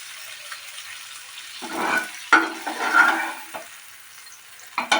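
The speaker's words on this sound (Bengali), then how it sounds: "চিংড়ি মাছগুলো লাল লাল করে ফ্রাই হোক" Prawns that were frying in oil for a jackfruit prawn curry are lifted out of the pan: a faint background sizzle, then a few sharp scraping and clattering bursts from the utensil.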